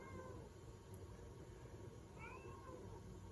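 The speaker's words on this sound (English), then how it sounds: "I don't know if you hear that meowing in the background." A pet cat meows faintly in the background of a quiet indoor room, two short distant cries over low steady hiss, with no talk.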